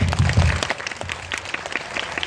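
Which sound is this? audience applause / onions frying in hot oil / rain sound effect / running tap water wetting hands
audience applause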